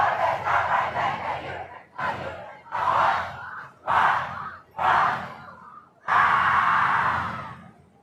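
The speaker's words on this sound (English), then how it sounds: "You can hear the crowd." A large crowd at the Deltona Whoville holiday parade cheers and shouts in loud surging waves, several short bursts followed by a longer sustained roar, with no talk over it.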